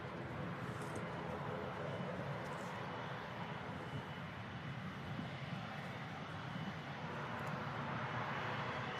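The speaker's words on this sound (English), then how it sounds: "As Aer Lingus heading back to Dublin." An Aer Lingus airliner departs Manchester Airport bound for Dublin, its jet engines a steady, broad roar that stays loud and constant throughout without any talk.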